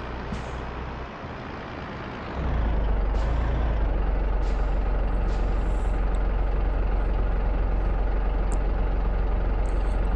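A Mercedes Actros truck in the game Grand Truck Simulator idles with a deep, steady engine rumble that swells louder after a brief dip, with faint air-brake hisses.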